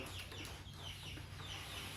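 Hens in a chicken coop cluck and murmur softly in a faint, continuous background, several birds at a distance with no talking.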